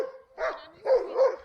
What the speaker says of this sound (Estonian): koerad lõugavad nii hirmsasti